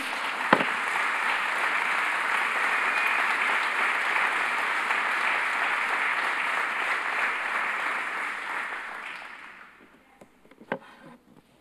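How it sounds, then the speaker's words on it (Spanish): A church congregation at a Sunday service applauds loudly and steadily for about nine seconds, a dense wash of many hands clapping that then fades out, followed by a few scattered sounds. "Denle un fuerte aplauso a Jesús."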